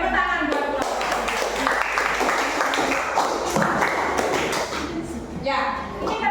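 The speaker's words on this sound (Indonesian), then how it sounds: "Oke, tepuk tangan buat kelompok." Classroom applause for a student group after their mangrove presentation, a scattered, uneven patter of hands with thumps and shuffling, with voices talking over it throughout.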